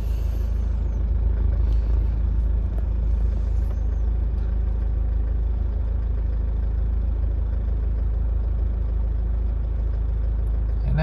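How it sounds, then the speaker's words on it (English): A Toyota car engine idles steadily throughout, a low continuous rumble with a faint mechanical hum and no voices. "Now it seems to be idling fine."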